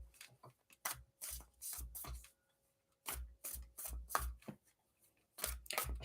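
Tarot cards being shuffled by hand during a live reading, heard as bursts of crisp riffling and rubbing, several quick flurries separated by short pauses, close and fairly quiet with no talk over them.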